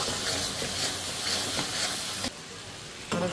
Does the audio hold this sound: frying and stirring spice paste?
yes